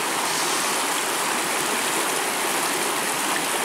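A river rushes past a riverside campsite in a steady, dense, unbroken wash of flowing water, close and loud, with no voices heard.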